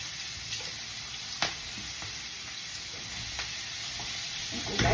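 Meat added to sautéed aromatics in a hot pan gives a steady, fairly quiet sizzle with occasional stirring clicks and taps, no talking.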